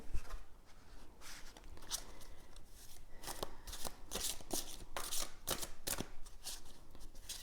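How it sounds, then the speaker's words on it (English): Tarot cards are shuffled repeatedly, quick crisp riffling bursts close up, in an irregular rhythm over a quiet background. "Shuffle a few times."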